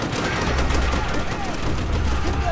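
Sustained automatic gunfire in Call of Duty: World at War, a loud dense rattle of overlapping shots running steadily throughout.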